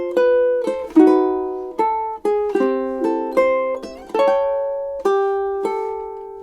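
Solo ukulele plays a short phrase of a song, crisp plucked notes and chord strums with a triplet-flavoured rhythm, close and unaccompanied.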